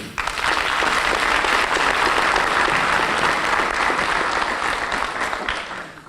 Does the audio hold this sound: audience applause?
yes